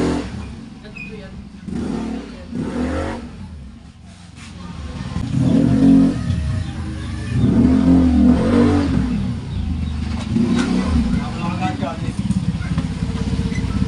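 Mio i 125 scooter fitted with an upgraded CVT setup (NCY pulley set, clutch lining, 8g/11g rollers) revving on an outdoor test ride, its engine droning steadily and surging louder mid-ride, struggling to accelerate, with a voice talking over it.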